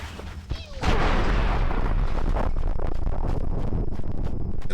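A grenade detonates in the Halo video game with a sudden loud, close boom, followed by several seconds of dense rumbling debris and crackling that holds steady without fading.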